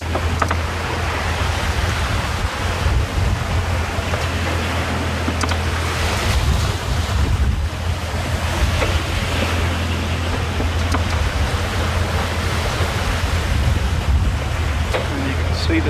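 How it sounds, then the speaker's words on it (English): Breaking ocean waves over a sandbank near Great Keppel, heard from a small sailing boat heading south, a continuous loud wash and rumble of surf mixed with wind buffeting the microphone, steady throughout the whole stretch. "Those breaking waves."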